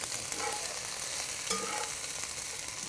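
Peppers and onions fry in a hot pan on a grill for Mexican dishes, giving a steady, close sizzle with faint stirring scrapes throughout and no voices.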